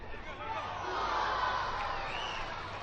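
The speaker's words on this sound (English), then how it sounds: "Good to hear the crowd get a little bit excited there" Football crowd at a Wellington Phoenix versus Brisbane Roar cup match, a steady roar of thousands that swells briefly in excitement after an attacking move, then settles back into a broad, continuous hubbub.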